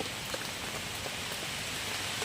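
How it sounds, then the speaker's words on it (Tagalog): Heavy rain falls steadily by a river under a tarpaulin shelter, a dense, even hiss of drops with occasional louder patters, loud and continuous with no talk. "Malakas na naman po ang ulan."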